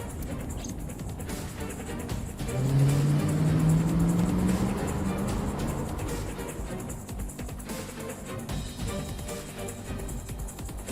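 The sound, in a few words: car engine racing, from video game AI The Somnium Files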